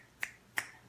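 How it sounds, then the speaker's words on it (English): Two crisp finger snaps about a third of a second apart, close and distinct against a quiet room. "You get me snapping my fingers"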